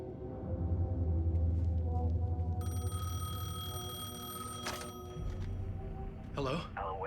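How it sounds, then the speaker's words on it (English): Payphone ringing in the video game Alan Wake 2, a steady electronic ring running through the middle of the clip over low game ambience, with a voice speaking near the end. "Phone is ringing."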